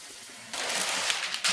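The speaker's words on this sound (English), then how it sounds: "I will rinse it under the running water and rub a little bit to get rid of the sticky stuff" Cucumber seeds being rinsed and rubbed under a running kitchen tap, a quiet start giving way to a steady broadband rush of flowing water with small splashy fluctuations.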